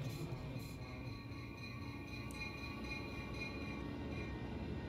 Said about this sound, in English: Yep, that was the sound of the train.